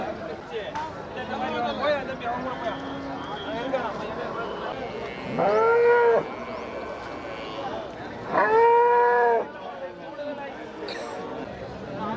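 Cattle at Melapalayam cattle market lowing twice in long, loud moos, with traders talking and bargaining throughout amid busy market noise.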